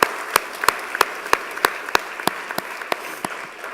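An audience at a college fall convocation claps in a light, sparse rhythm, with distinct individual claps ringing out one after another for several seconds in a large hall.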